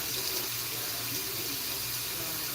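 Steady stream of tap water pours from a faucet into a water bottle, a continuous broadband rush that holds even and close throughout with no talking.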